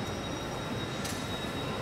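A passing train makes a continuous broad rumble and hiss, picked up by a Sony ECM-M1 microphone with noise cancelling enabled; a steady wash with a faint high whine and one brief brighter swell midway, no voices.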